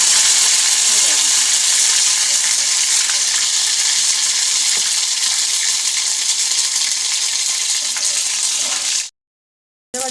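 Ginger paste hitting hot oil over a high gas flame, a loud, dense, steady frying sizzle filling the whole stretch before cutting off abruptly into silence near the end.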